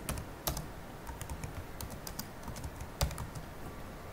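Keystrokes on a computer keyboard while a file is renamed, a steady run of soft, close clicks with a few louder taps standing out.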